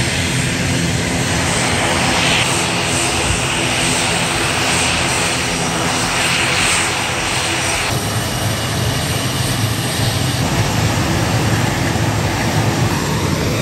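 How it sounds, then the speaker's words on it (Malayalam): An airplane taxis in after landing at a private airport, its engine drone loud and continuous throughout, roaring near with a shift in tone partway through. "ഇപ്പോൾ ലാൻഡ് ചെയ്ത ഒരു വിമാനം ദേ വന്നുകൊണ്ടിരിക്കുന്നതാ"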